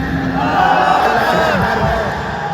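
A large crowd at the Wagah-Attari border flag-lowering ceremony between Pakistan and India chants a national slogan, a loud, dense roar of massed voices rising and holding steady throughout.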